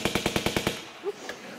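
QI panel buzzer set to a machine-gun sound effect: a rapid burst of about seven sharp shots over the first 0.7 seconds, then brief faint sounds and near silence.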